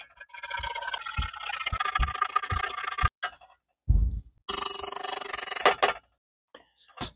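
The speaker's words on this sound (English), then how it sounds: "Let's give that a stir." Citron lime drink mix from a Canadian ration pack is stirred into about 500 ml of water, a spoon scraping and clinking rhythmically against the container, close and fairly quiet, with a few sharper knocks and splashes toward the end.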